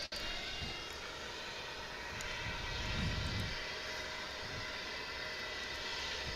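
A fixed-wing airliner arriving at DFW International Airport before dawn, a steady broad jet-engine roar at moderate distance that swells slightly midway, with no talk over it.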